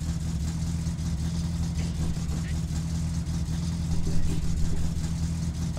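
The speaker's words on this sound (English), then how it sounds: "Is the car really loud right now?" Car engine in a driving video game, a steady loud drone with a strong low hum that holds constant throughout and swells slightly near the end.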